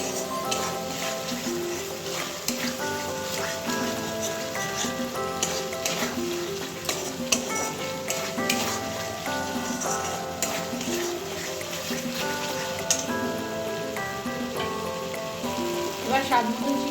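Vegetables and spice paste for a paneer curry sizzle and fry in a pan with occasional stirring, a steady crackling hiss that runs throughout.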